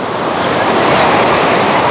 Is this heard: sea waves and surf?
yes